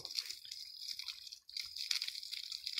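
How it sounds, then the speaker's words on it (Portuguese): Water runs from a garden hose onto guavas being washed, a soft hissing splash with brief interruptions, faint and close by, with no talking. "ó, mangueira d'água aqui"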